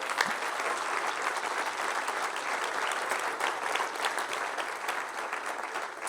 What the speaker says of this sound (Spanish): Den un aplauso más fuerte al Señor por eso